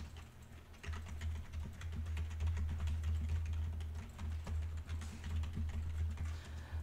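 Keyboard typing during coding, a run of light, fast, irregular key clicks close by, steady throughout over a low background hum, with no one talking.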